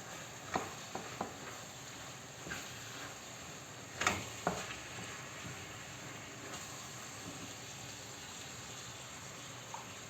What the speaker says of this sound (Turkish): kıymamız ve soğanlarımız kavruluyor